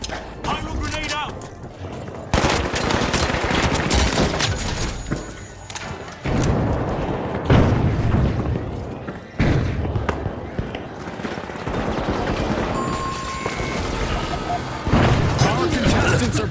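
Pyro grenades detonate in the video game The Finals, several sharp booms and thuds scattered among rapid gunfire and game effects, with talking throughout.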